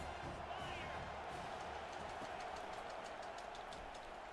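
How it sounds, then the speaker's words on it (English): Steady, loud stadium crowd roar from the EA College Football 25 video game, a continuous wash of cheering noise with no breaks. "Stadium's going crazy."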